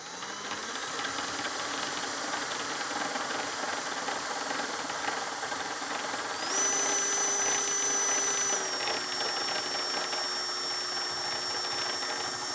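A steady whirring drill bores a hole in a Hagerman valve, running continuously, its pitch stepping up briefly in the middle before settling lower, with no voices.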